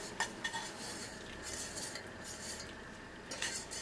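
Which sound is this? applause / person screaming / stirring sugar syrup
stirring sugar syrup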